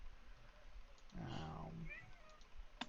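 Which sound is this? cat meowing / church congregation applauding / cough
cat meowing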